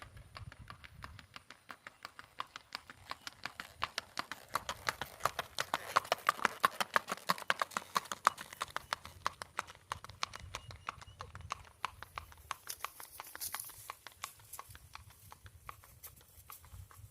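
Rhythmic hoofbeats from a gaited run-and-walk horse moving at an even, quick gait, growing louder as it approaches and then fading slightly, with faint voices in the background.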